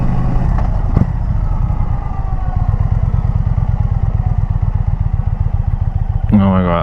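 A motorcycle engine rumbles steadily while riding along the road, a close, continuous low throb, with a brief rising rev near the end.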